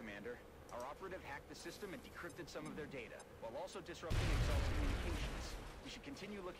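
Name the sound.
grenade explosion in video game XCOM: Enemy Within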